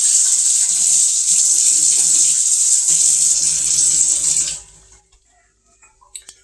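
Tap water runs in a loud, steady stream into a sink during washing, then cuts off abruptly, leaving near silence with a few faint clinks.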